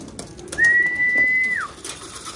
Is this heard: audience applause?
no